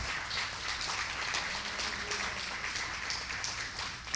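Congregation applause in a church service, a steady diffuse wash of clapping at low level that holds evenly throughout without a break.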